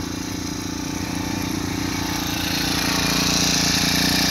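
Petrol-fuelled grass cutter engine running at a roadside toll gate, heard as a loud, close, continuous droning motor that holds steady and builds slightly louder over a few seconds.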